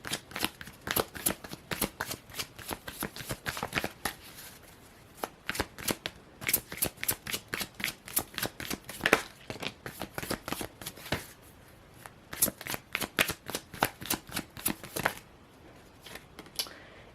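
A Gilded Tarot deck being shuffled in rapid riffles and flicks, with dense bursts of crisp card slaps broken by brief pauses, close and steady throughout with no talking.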